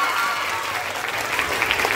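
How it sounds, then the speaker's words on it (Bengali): Steady applause from a room of students at a school results gathering, a dense continuous clatter of many hands clapping, fairly close and even in level across the whole stretch with no talk over it. "জোরে একটা হাততালি দাও।"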